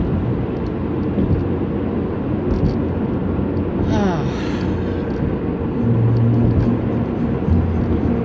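From inside a car driving along a New York City highway, a low road rumble and a steady whir of tires fill the cabin, with a brief rising whine partway through and a heavier drone near the end.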